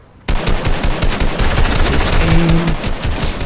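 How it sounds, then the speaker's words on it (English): Rapid automatic gunfire in Fortnite bursts out loudly and keeps going in a dense, rattling stream of shots. "Oh, gunfire. Where is it at?"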